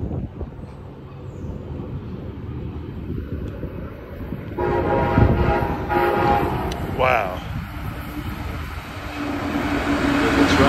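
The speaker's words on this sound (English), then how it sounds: "There's a train." A train passes near Dixie Highway in Deerfield Beach, Florida, rumbling steadily under outdoor ambience with a brief horn-like toot partway through, heard from a pedestrian access point; a person speaks briefly.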